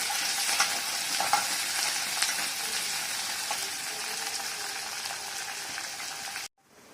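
Onions and green chillies fry in oil until browned, a steady dense sizzle with faint stirring scrapes throughout, then it cuts off abruptly near the end.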